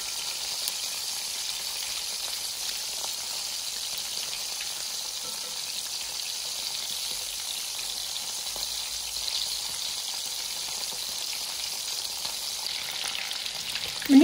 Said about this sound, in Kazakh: Котлеттерімізді орташа отта қуырып аламыз.